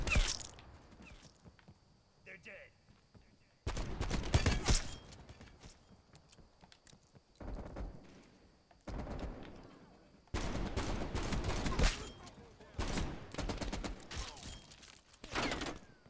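Magnum pistol shots in Call of Duty Cold War: several sharp, loud reports in separate bursts, each followed by a short echoing tail, with quieter game ambience and clatter in between.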